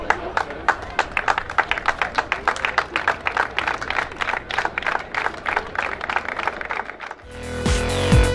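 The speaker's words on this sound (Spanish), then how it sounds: "Un aplauso para Félix Brito" Applause and clapping from a crowd at an award ceremony for a hill-climb rally driver, a dense, steady burst of many hands lasting several seconds before cutting abruptly to a different, tonal sound at the end.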